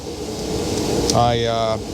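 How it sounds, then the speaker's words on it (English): A steady broadband whoosh of a room heater running, with a faint tonal hum rising near the end. "You have to pardon the heater noise."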